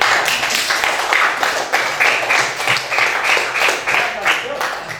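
Sixth-grade pupils in a classroom clap together for classmates' test scores, giving rhythmic rounds of group clapping at a steady pace, with voices mixed in.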